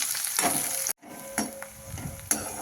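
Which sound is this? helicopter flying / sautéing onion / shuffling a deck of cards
sautéing onion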